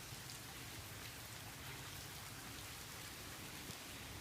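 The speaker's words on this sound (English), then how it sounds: "It's a rainy day," Rain pours down outdoors in a continuous soft hiss of raindrops hitting surfaces, quiet and uniform throughout, heard alone without speech.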